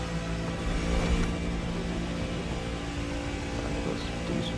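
Car engine droning steadily while driving without nitrous in the racing game The Crew Motorfest, a continuous mid-level hum with slight rises and no speech.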